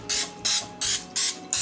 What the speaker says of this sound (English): I'm just gonna take cooking spray and spray each